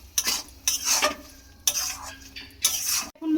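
Pav bhaji vegetable curry, Mumbai street-food style, is stirred and mixed in a pan: four distinct scraping strokes of a spoon against the metal, close and fairly quiet, with a faint sizzle between them.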